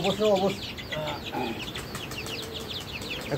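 Farm-raised chickens cluck in short bursts nearby, some calls rising and others choppy, against faint background noise.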